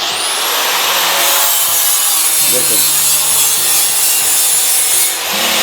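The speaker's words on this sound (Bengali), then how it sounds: "পুরো ঘষে সব ঢালাই দাগ ফাগ সব মিটে যাবে" A grinder polishes welding marks off a stainless steel railing with a loud, continuous abrasive whine and grinding rasp that holds steady throughout, up close.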